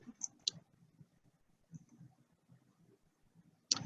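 Sharp mouse clicks on a Save Template button in a software interface, two quick clicks close together near the start and another crisp click at the end, with faint low room noise between.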